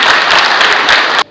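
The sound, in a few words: audience applause welcoming guests on stage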